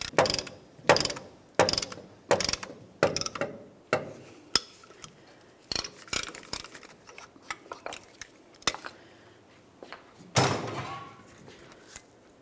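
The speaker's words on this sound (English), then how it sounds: "Now we can continue on with our dual piston caliper depression tool" Dual-piston caliper depression tool pressing the brake pistons back into a rear caliper on a 1994-2002 Ram 2500, making repeated close ratcheting clicks and metallic clanks in an uneven rhythm, followed by a brief scraping rattle, with no voices.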